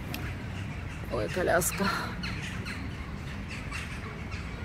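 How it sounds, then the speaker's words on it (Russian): Crows squawk and caw in a brief cluster, fairly loud and near, on a night street in Izmir, Turkey, over steady background hum, while someone speaks briefly. "А вороны как каркали, так и каркают."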